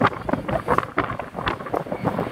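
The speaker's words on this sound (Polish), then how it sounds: "Patrzcie jak wieje, sypie, droga zamknięta." Strong wind roars during a snowstorm on a closed road, a loud, steady buffeting rush with gusts that batter the microphone through the whole stretch.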